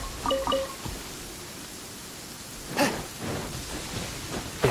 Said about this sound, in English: There is no purer form of water than rain.